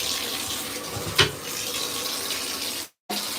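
Bath water runs from a faucet into a tub prepared with Epsom salt and bentonite clay, a steady broad hiss that fills the clip, with one brief louder splash and a short dropout near the end.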